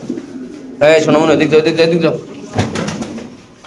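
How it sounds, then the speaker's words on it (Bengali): Fancy pigeons cooing at a pigeon farm, soft throaty coos close by, mixed in with someone talking loudly over them. "দর্শক দেখেন এই যে খুব সুন্দর সুন্দর কবুতরগুলো এই যে দেখেন"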